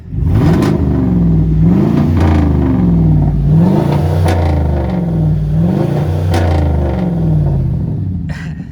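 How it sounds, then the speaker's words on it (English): A 2021 Chevrolet Silverado pickup engine revs up and drops back several times in a row, loud and close, with a deep rumbling exhaust. "I'll give y'all boys a couple of revs, that way y'all can hear it"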